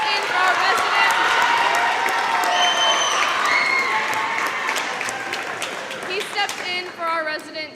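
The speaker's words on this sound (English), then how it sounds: "Give a huge round of applause for him." An audience at a senior band concert applauds the stage manager, steady broadband clapping that stays loud and sustained before thinning slightly near the end, with voices mixed into the crowd noise.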